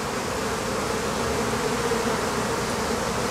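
A honeybee colony buzzes steadily at the hive during a transfer to a larger hive box, a dense, continuous, close drone of many bees with no voices.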